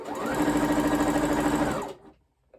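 A domestic sewing machine with a rolled hem foot runs a steady, fast stitch for just under two seconds and then stops, leaving quiet.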